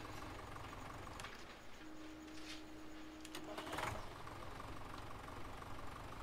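A tractor engine idling in Farming Simulator, a low steady mechanical hum with a faint knock, quiet and continuous, with a brief rise in intensity midway.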